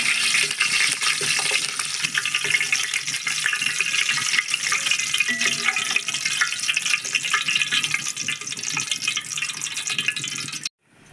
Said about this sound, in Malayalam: അത് നമുക്ക് ഒന്ന് ഇതിനകത്ത് ഇട്ടിട്ട് ഒന്ന് വറുത്ത് കൊടുക്കാം